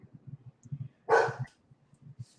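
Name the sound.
old dog barking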